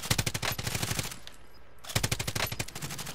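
Rapid automatic gunfire in a video game aimed at an enemy, two loud close bursts of quick repeating shots separated by a short pause.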